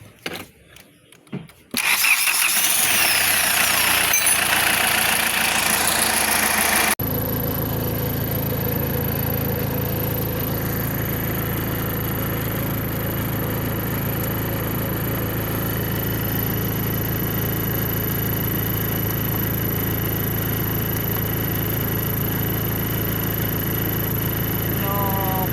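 A car engine with a P2238 fault, bank 1 O2 sensor positive current control circuit, cranks and catches after a few clicks, then roars high briefly before settling into a steady, loud idle, with someone talking early on.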